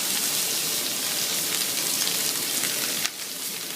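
Steak fries in hot oil in a pan with a loud, steady, dense sizzle and crackle close by, and a brief sharper burst near the end as the meat is moved.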